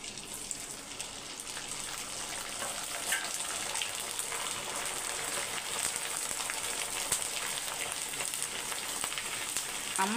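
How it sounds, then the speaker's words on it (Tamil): Steady crackling sizzle of sago papad frying in hot oil, continuous and close, with no talking. "ஃபஸ்ட்டு வந்து அப்பளத்தை பொரிச்சிடலான்ட்டு பொரிக்கிறேன்"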